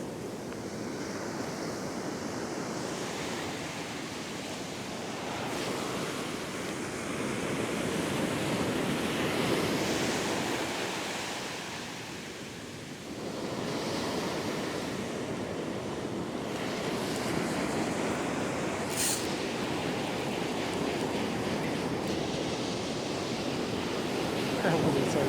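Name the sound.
ocean waves crashing on beach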